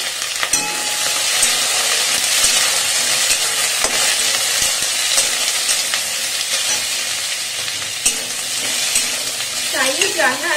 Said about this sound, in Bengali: চাইনিজ রান্নায় একদম বেশি ভাজবেন না, একদম হালকা, এগুলো জাস্ট একটু নাড়িয়ে নিতে হবে